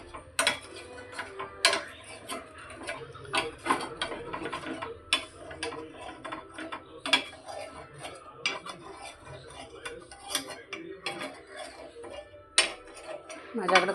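A metal spoon swirls oil around a hot appe pan while making appe, giving light repeated clinks and scrapes against the metal, with faint talk in the background.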